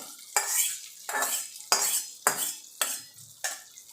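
A spoon stirring freshly tempered coconut chutney in a bowl, six evenly spaced scraping strokes with faint metallic clinks and a light sizzle, close and clear with no talking.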